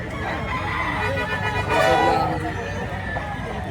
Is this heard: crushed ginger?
no